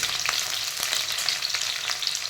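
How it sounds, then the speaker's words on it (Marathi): Green chilies frying in hot oil, a dense crackling sizzle with scattered pops and spits, close and steady through a short stretch with no voices. "मिरच्या चांगल्या तळू द्यायच्या."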